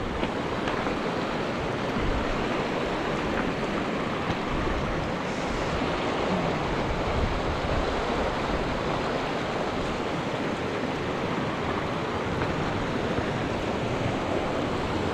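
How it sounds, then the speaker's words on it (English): A river rushes steadily beside a fell path near Bannerdale Crags in the Lake District, a broad, continuous roar of flowing water heard close and unbroken for the whole stretch, with no talking. "Listen to that river, isn't that lovely?"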